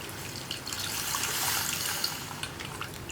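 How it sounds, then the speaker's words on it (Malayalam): Squeezed tamarind water pours into a pot of beetroot rasam as a continuous close splashing trickle, with no talking. "ഇതിലേക്ക് ഇനി നമുക്ക് പുളി പിഴിഞ്ഞ് ചേർത്ത് കൊടുക്കാം"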